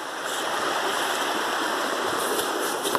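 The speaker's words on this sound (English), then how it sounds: "the water's rushing down" Water rushes continuously over rocks in a creek running high, a steady broadband hiss and gurgle with no voices.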